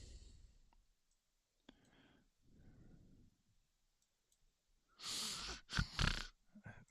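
Close-miked snorting and heavy breathing into a microphone: faint breaths and clicks at first, then a few loud, harsh snorting bursts near the end.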